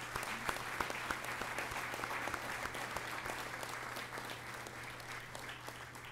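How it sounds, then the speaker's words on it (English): A press conference audience applauds the NJIT coaches with steady, moderately distant clapping, a few sharper individual claps standing out over a constant low hum. "a round of applause for all of the NJIT coaches"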